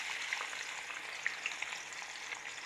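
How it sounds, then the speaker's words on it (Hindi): Onions are dropped into hot oil in a kadhai for a village-style bean curry. They fry with a steady, hissing sizzle, broken by soft crackles and pops. The sound is fairly quiet, and no one speaks. "मैंने ऑयल कढ़ाई में डाल लिया था, ऑयल हमारा गर्म हो चुका है। अब इसमें हम प्याज डाल देते हैं।"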